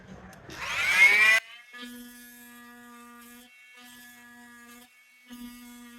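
Narrow-bladed power saw cutting a pulley access hole in a sash window frame: a brief loud rasping burst at the start, then quieter steady motor hum with short pauses.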